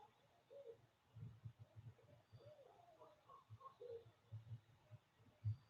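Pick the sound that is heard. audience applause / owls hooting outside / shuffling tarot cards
owls hooting outside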